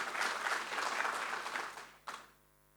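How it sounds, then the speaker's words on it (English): A conference audience at a tax conference welcome session claps in a sustained, moderately loud round that fades and ends with a final lone clap, then quiet. "We can give ourselves a round of applause for that."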